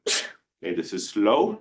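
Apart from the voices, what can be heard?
sneeze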